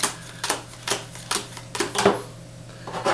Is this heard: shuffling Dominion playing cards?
yes